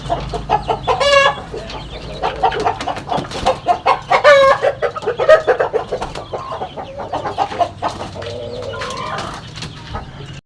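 Hens near laying age cluck steadily in a yard, with overlapping calls from several birds close by, a few louder squawks and a brief crow-like call standing out.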